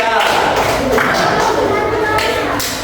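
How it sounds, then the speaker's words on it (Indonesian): A classroom of students performs a rhythmic clap chant during a coding lesson, with bursts of hand claps mixed under loud chanting voices. "tepuk tangan itu coding"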